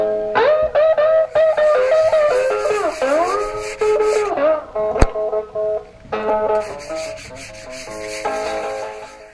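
Steady close rubbing strokes of 600-grit sandpaper wet sanding primer on a motorcycle tank, a continuous rasping that wavers in pitch, with brief pauses and a sharp click midway.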